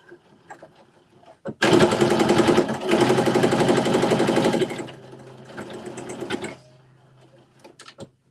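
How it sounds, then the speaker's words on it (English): A sewing machine back stitches with a loud, rapid chattering burst of needle strokes. It then runs on more softly for a couple of seconds before stopping, leaving a few scattered clicks. "Make sure you back stitch."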